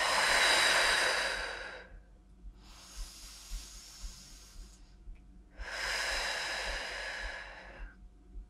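Deep breaths during a mat-based stretching workout, a long airy exhale, a softer inhale, then another strong exhale, close and unhurried with faint low thumps underneath and no speech.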